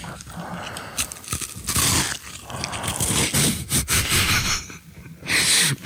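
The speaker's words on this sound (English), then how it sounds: "here's me crunching into an Oreo" Close-up crunching as someone bites into an Oreo cookie, several loud crisp crunches and chewing bursts with breathy pauses between them, intimate and without speech.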